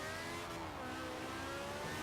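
The tiny Peel P50 microcar in the racing game Forza Horizon 4 drones with a continuous buzzing engine note held at steady high revs throughout.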